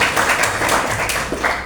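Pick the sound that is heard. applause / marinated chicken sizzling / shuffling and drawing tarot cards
applause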